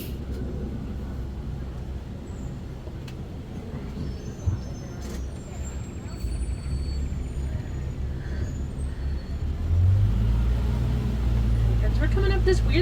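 A safari truck idles in a line of traffic on a Kilimanjaro Safaris ride at Animal Kingdom, low engine rumble steady throughout, with a short hiss and a louder engine surge near the end.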